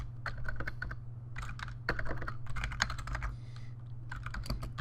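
Keys on a computer keyboard are typed in quick irregular bursts of close, crisp clicks with short pauses between runs, over a faint steady hum.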